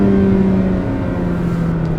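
A 1995 Acura Integra GS-R engine holds high RPM during a road drive, a loud, steady, high-pitched wail that eases slightly partway through.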